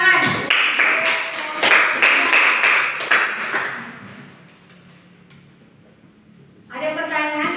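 An audience in a classroom setting claps for several seconds, a dense patter that fades into quiet before a fresh burst of clapping starts again near the end.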